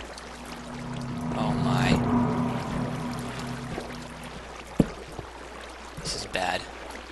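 Running water flows in a Minecraft game, a soft continuous rush with brief splashy bursts, under a player's startled exclamation.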